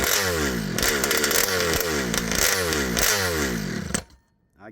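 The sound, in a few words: engine of a scooter with ALX 71cc kit revving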